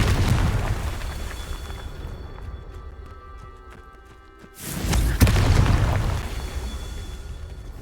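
A Confringo blasting spell in Hogwarts Legacy lets off a sudden booming explosion midway, with rumbling game ambience swelling before it and a crackling tail fading after, no voices over it.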